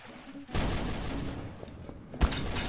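Burst of gunfire in the Gmod DarkRP game, a sustained rattling volley starting abruptly after a quiet moment, with a louder crack near the end and little else over it.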